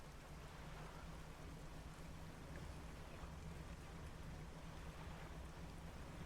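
Steady rain from the fishing video game Dredge, a constant even hiss of falling drops over water with a low engine hum beneath, faint and unbroken, with no voices.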